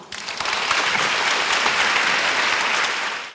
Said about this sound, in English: warmest applause for Huang Xiaowen, please.